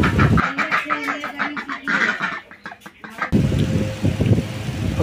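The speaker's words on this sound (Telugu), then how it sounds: "ఇంకా ఇవి బాతులు, మనం వీడియో చేస్తుంటే భలే డిస్టర్బ్ చేస్తున్నాయి" Ducks kept at a house, quacking and calling in quick loud bursts close by, mixed with other fowl clucking, with a steadier background noise after a short pause.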